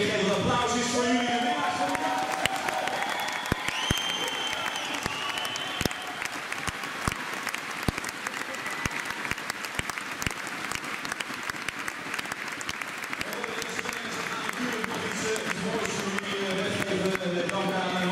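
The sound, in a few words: crowd applause at badminton Dutch Open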